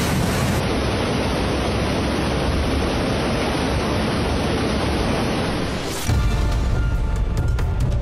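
Loud, steady roar of rushing flood water fills the scene without a break, with a brief dip before a rougher, closer surge of turbulent water near the end.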